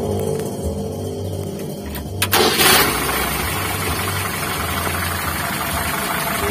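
A 1980s Mitsubishi Colt T120 fitted with a new carburetor cranks briefly, then catches and settles into a steady, close idle with a low rumble.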